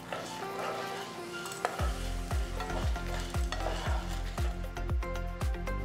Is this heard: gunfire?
no